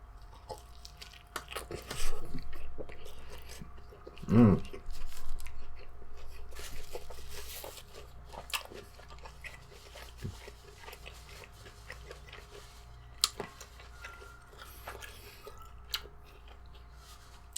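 Biting into and chewing a squished steak taco topped with sour cream, close up, with a few soft crunchy bites and mouth sounds over a quiet background.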